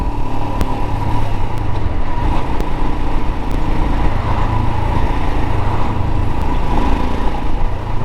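The single-cylinder engine of a Royal Enfield Himalayan runs on a test ride, a loud, dense, steady thumping drone that stays close and constant the whole way, with no voices.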